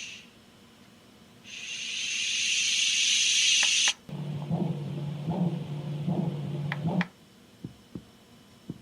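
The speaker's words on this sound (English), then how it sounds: "This one's like a shushing sound." A sound machine gives a shushing sound, a loud bright hiss swelling for a couple of seconds, followed by softer rhythmic lower whooshing pulses and a few faint clicks.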